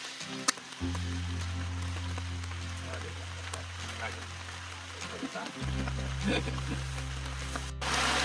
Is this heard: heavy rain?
yes